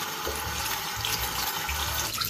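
Running tap water rinsing soapy hands and long fingernails at a sink: a steady, close splashing gush with slight bubbling changes as hands move under the stream, no voices.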